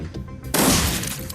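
A loud gunfire burst bursts out in a Shadowrun: Dragonfall firefight as a troll is shot, a sudden crack followed by a dense crackling blast with a soft low murmur before it.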